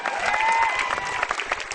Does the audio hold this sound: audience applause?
yes